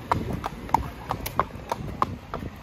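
Two horses out hacking along a road with no curb, their hooves clip-clopping in a steady, fairly close rhythm, with a voice faintly in the background.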